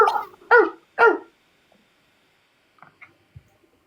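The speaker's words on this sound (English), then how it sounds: "I have a dog too." A dog named Jazz gives three quick, close barks in a row, then goes quiet apart from a few faint small noises.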